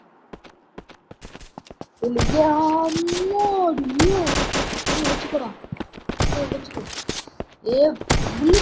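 Video game gunfire comes in rapid bursts of sharp automatic shots, with quiet taps first and then louder, denser volleys under the blare of other game sounds.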